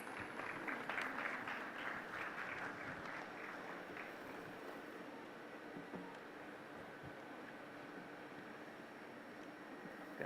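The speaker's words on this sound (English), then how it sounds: "Members of the audience, please put your hands together once again" Audience applause at the DAKSH 2022 civil services event, a faint, steady wash of clapping that swells early and then fades into a quiet hall hum.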